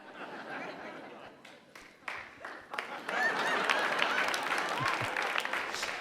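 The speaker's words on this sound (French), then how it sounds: "je vous vois applaudir" A crowd breaks into applause that builds to a dense, sustained clatter of clapping, with some voices and laughter mixed in.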